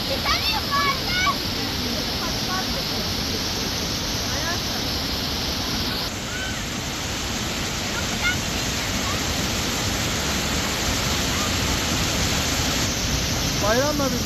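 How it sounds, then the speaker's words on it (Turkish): Derebağ Waterfall in Turkey roars as a steady, loud, dense wash of rushing water that fills the whole clip without break, with faint voices and bird-like chirps barely rising above the torrent. "Derebağ Şelalesi'ne geldik"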